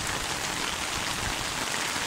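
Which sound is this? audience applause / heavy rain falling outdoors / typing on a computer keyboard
heavy rain falling outdoors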